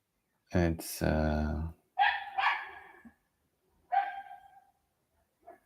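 A dog barks a few times at close range, a couple of sharp loud yaps followed by shorter, softer barks with pauses between.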